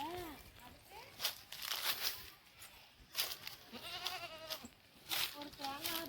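Goats bleat repeatedly at close range in a rural village yard, wavering cries rising over crinkling and rustling noises while people talk nearby.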